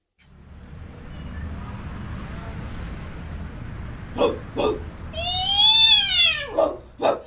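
A cat beneath a car at night gives one drawn-out, rising-and-falling meow, close and clear, with a few short sharp noises before and after it over a steady low rumble.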